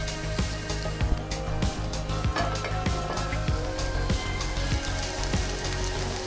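Eggplant sizzles and fries in a covered pan over a low flame, giving a steady, close crackle with scattered small pops and no talking.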